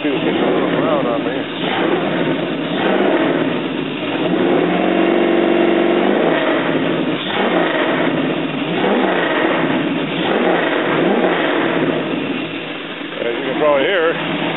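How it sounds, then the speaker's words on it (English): A car with a swapped-in LQ4 6.0L V8 engine runs and revs up and down through a steady, loud engine drone, with people talking over it nearby. "As you can probably hear, she's running pretty good here."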